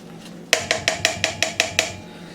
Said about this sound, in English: And now we're just going to mix that up really good